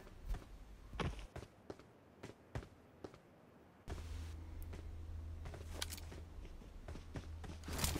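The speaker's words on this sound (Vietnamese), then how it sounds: "Nghe tiếng chân đẩy lên này." Footsteps in the PUBG Mobile video game, faint scattered thuds at first, then a steadier shuffling run over a low rumble that grows a little louder as the steps come closer.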